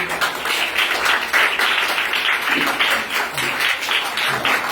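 A group of children claps their hands, producing a steady, close wash of scattered claps that continues without a pause through the whole clip, with no talking over it.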